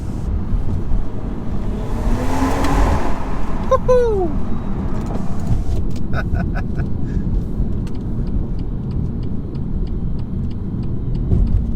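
A 2018 BMW M140i with a stage 1 tune roars and revs hard as it accelerates, with crackling pops on the overrun and wind rush; someone shouts excitedly midway.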